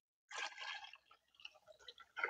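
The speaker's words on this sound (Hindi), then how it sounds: "अब इसमें हम थोड़ा सा पानी और मिला देंगे" Water poured into a homemade organic potash mixture, a close burst of splashing followed by softer irregular trickles and drips, then a final splash.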